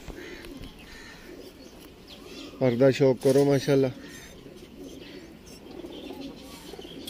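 Several loud, repeated pigeon coos close by, forming a short burst of rhythmic calls, with someone talking before and after.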